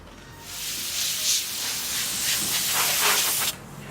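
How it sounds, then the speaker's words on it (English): A steady hiss of compressed air from an air duster sprays close by for about three seconds, then cuts off abruptly. "Keep your air duster and keep it straight. And spray."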